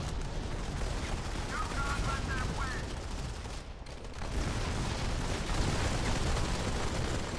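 Gunfire from the mobile shooter game Modern Combat 5: dense, continuous bursts of shots and blasts fill the whole stretch, with a short lull midway before the firing picks up again, steady and loud throughout.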